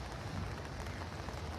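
Rain falls steadily at Newcastle's Hunter Stadium ahead of a crowded event, a continuous broadband wash of drops with no clear voices over it.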